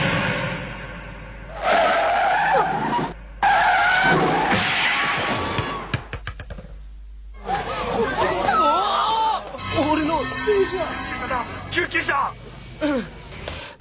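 A car skids to a sudden stop in an anime scene as it nearly hits a small child; loud whooshing tire noise comes in bursts, with dramatic music and voices mixed in.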